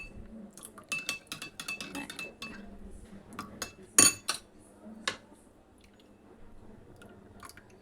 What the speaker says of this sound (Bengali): এই দুধ আর দই খুব ভালোভাবে মিশিয়ে নেব